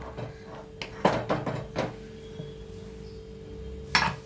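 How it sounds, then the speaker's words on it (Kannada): Metal pressure cooker lid being fitted and clamped shut in a home kitchen while vegetable kurma is cooked, a few sharp clanks and scrapes clustered together, then a final clack after a short pause, with no talking. "ಕುಕ್ಕರ್ ಮುಚ್ಚಳ ಮುಚ್ಚಿಬಿಟ್ಟು"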